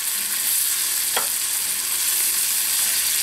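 Butter, chopped mushroom bits and half an onion simmer over low heat in a pan, a steady soft sizzle and hiss running throughout with no talk.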